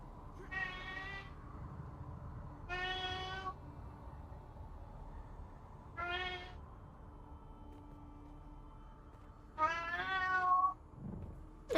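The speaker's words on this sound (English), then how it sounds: "Oh, please don't mind the cat." Domestic cat meowing indoors: four drawn-out meows spaced a few seconds apart, the last one longer and louder, over low background hum with no talking.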